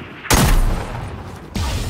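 Gunfire in the video game Fortnite, a loud burst of rapid shots that stops briefly and then starts again, close and harsh.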